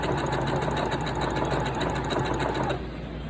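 Sewing machine running continuously while stitching down knit fabric for a face mask, a steady close whirring stitch rhythm that eases slightly near the end.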